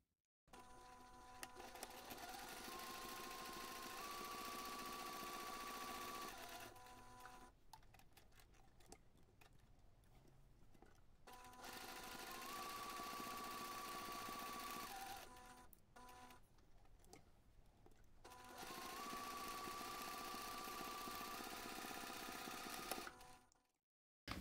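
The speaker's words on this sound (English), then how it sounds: "I can take this to the machine and I'll be able to just top stitch my pocket in place" A sewing machine top stitches a fabric pocket in place, running in three steady bursts of continuous motor whir with a mechanical needle rhythm, separated by short pauses, close and fairly loud with no talk.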